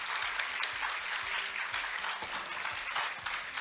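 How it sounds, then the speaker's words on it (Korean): Steady applause from a seated audience at a conference session, dense continuous clapping filling the room for a few seconds without talk. "발표자분들께 큰 박수로 다시 한번 부탁드리겠습니다"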